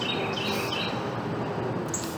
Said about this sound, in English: I don't know if the birds are really loud in this video, but they are really going at it right now